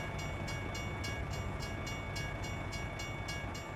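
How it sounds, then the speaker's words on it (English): A freight train rolls past in American Truck Simulator, a steady rumbling roar with a regular rhythmic clatter of wheels over rail joints, continuous and fairly loud throughout. "Look at the train go."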